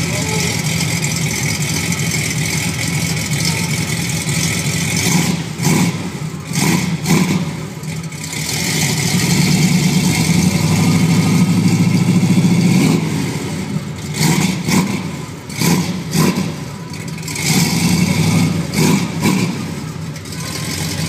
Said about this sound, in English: Sit back here while I rev it up.